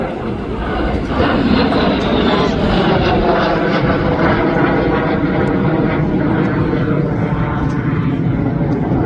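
A vintage T-33 Shooting Star jet flies past at the Central Coast Airfest air show, its loud, steady engine roar sustained throughout and building slightly as the aircraft approaches.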